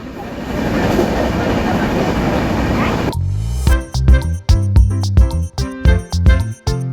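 A train running on from Karad railway station: first a loud continuous rolling rumble, then a switch to a closer rhythmic clatter of wheels over rail joints in rapid repeated beats.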